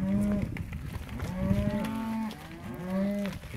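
Several cows moo in a row, loud and close, with long drawn-out lowing calls overlapping one another through the clip and no talk.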